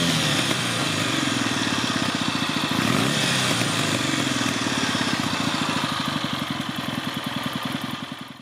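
A Kawasaki modern classic motorcycle with an air-cooled, carbureted twin on a 360-degree crank runs steadily, its loud, even pulsing throb holding close and continuous throughout.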